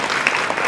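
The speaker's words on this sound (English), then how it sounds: "please give them a round of applause" A brief burst of applause, many hands clapping together close by, cut short after under a second.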